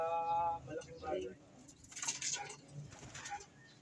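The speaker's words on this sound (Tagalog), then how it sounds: "Ito po ang ibon, Boss Kobe" Pigeons cooing in a racing-pigeon loft, soft low coos and fluttering shuffles heard nearby, with someone talking over them.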